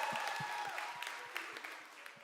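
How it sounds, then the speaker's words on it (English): Audience applause for Brooke after she leads an icebreaker at a youth leadership gathering, a moderate, fairly quiet patter of hands with some low thumps, fading slightly over two seconds. "Let's give another round of applause for Brooke for leading such an amazing icebreaker."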